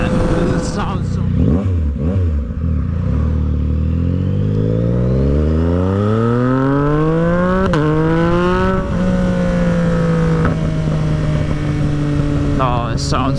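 A 2022 Yamaha MT-09 fitted with a GP3 aftermarket exhaust revs up loud and close, its engine note climbing steadily through the gears, then settling into a sustained high drone.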